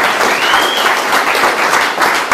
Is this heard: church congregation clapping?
yes